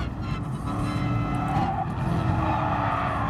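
Tires squeal and skid as a race car oversteers through a corner in Gran Turismo Sport, a steady, continuous screech over engine roar lasting the whole stretch, with no talk.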